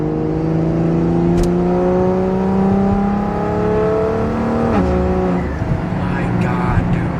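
Single-turbo BMW X3M engine pulling at half throttle from around 3,000 rpm, a loud rising drone with climbing pitch, a brief shift dip, then more revving, heard from inside the car alongside talk.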